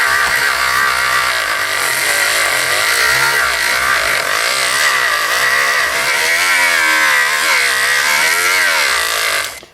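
Rotary tool fitted with 320 grit sandpaper, sanding the loading port of a Stoeger M3000 shotgun, whirs loudly and continuously with a shifting, wavering pitch as it presses against the metal, then winds down at the end.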